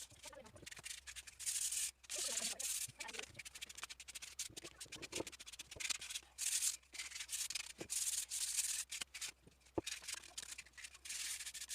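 Steady scratchy rubbing of 120-grit sandpaper on wood, continuous back-and-forth strokes with brief pauses, close and fairly loud.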